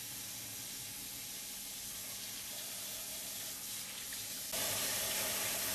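Water runs steadily into a sink while natural dreadlocks are rinsed, a close continuous hiss that grows louder and brighter near the end.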